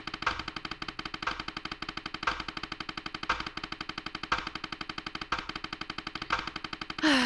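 Quiet, rapid mechanical ticking of a clock in the video game Alisa runs steadily, with a heavier accented beat about once a second, giving a driving rhythmic pulse.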